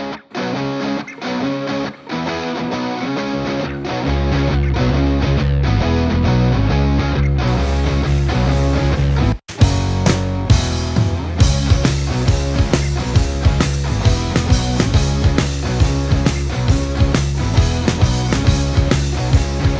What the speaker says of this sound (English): So now we have this right hand guitar with its reverb on the left.